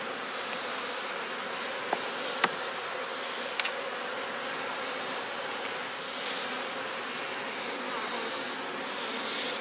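Honeybees buzz steadily in an open hive colony, a dense continuous drone close by with a couple of faint clicks, no talking.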